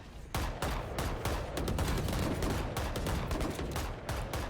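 Dense, continuous gunfire from a Valorant esports match in a professional tournament: rapid, overlapping cracks and bursts that form a loud, sustained barrage with no talk over it.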